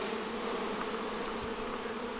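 A honey bee swarm pouring out of a hive, a dense continuous buzzing hum of many bees close by, steady and unbroken with no voices.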